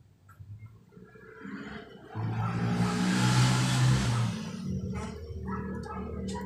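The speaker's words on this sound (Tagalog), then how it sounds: "i-testing natin kung maayos pa ang motor na yun" An old washing machine motor under test hums and roars up to a steady drone for a couple of seconds, then eases down to a lower whir, alone and fairly faint.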